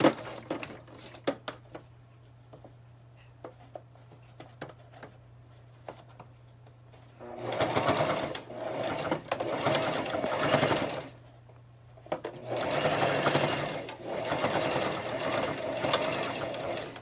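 Sewing machine zigzag stitching a fabric mask with an elastic loop, quiet handling and faint clicks at first, then two loud sustained bursts of rapid mechanical stitching separated by a short pause.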